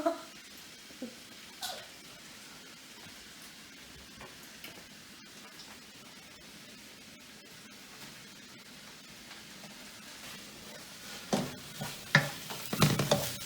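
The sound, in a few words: vegetables sizzling in a stir fry pan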